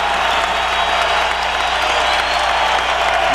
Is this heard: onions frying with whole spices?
no